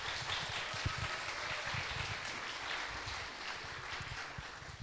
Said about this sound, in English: so you can clap for us again